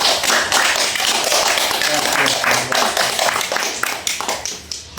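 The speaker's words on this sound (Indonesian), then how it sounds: "beri tepuk tangan saja" A burst of hand clapping from a group, brisk and dense, gradually thinning out over a few seconds.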